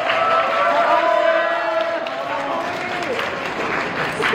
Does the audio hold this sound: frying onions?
no